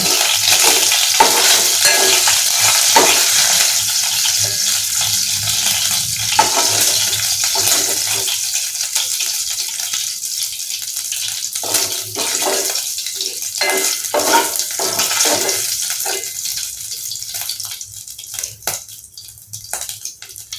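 Small netthallu fish fry in hot oil in a pan, giving a loud, steady sizzle and crackle that runs continuously and fades slightly toward the end, with occasional stirring scrapes and no talk over it.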